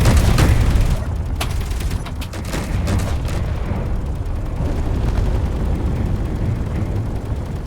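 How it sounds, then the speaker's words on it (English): Custom railgun turrets firing on a heavy battleship in Space Engineers, with heavy booming blasts up front and a sustained roaring rumble after, loud and dense. "here you can see those custom railgun turrets"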